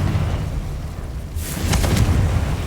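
The Confringo explosive curse from Hogwarts Legacy bursts over a deep rumbling bed, a single loud, close blast with a crackling, sizzling tail that fades into the low background roar.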